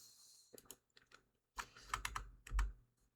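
Computer keyboard typing in a car dealer simulator session, with short bursts of close key clicks in uneven clusters separated by brief pauses and a few heavier thumps near the end.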